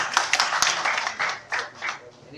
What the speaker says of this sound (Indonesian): Kita kasih tepuk tangan yang luar biasa.